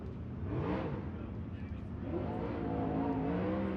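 Number 29 race car roaring along the front stretch at Riverside during a USCS dirt-track race, engine pitch rising and sweeping past, with an announcer talking over it.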